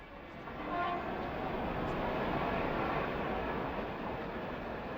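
Steam locomotive 4965 Rood Ashton Hall running tender first out of a tunnel on the Shakespeare Express, a steady rumbling roar of the train that swells within the first second and stays loud.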